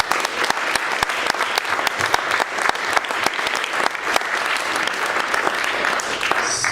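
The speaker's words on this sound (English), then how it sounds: "I'd like to give them a big round of applause" Sustained audience applause at an evening candidate forum, a dense, steady wash of many hands clapping for four candidates, fairly close and loud throughout with no speech over it.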